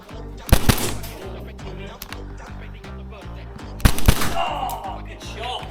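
Airsoft guns fire in bursts during a game, rapid clattering volleys near the mic at two moments, with a steady mechanical rattle running underneath and faint voices around.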